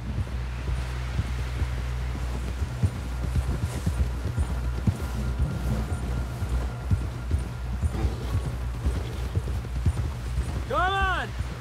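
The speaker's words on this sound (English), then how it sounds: "Someone help John down off this horse." Steady clip-clop of horse hooves trotting at a brisk rhythm beneath wind and rustling in the video game Red Dead Redemption 2, with a brief warbling tone near the end.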